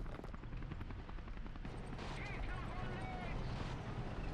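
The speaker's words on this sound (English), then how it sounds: "Okay, helicopters arrived with infantry. Now get the hell out of here, NH90, before you get shot down, brother." An NH90 military helicopter arrives during a Call to Arms tank battle, its rotor chopping loudly and continuously over a heavy rumble, with someone talking over it.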